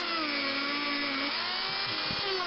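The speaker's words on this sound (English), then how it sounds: "And what I'm doing here, I'm drilling the actual posts." A small drill bores through the metal posts of a restored Matchbox Lesney No. 4 stake truck model, a steady high whine running loud and continuous with slight pitch shifts as the bit bites.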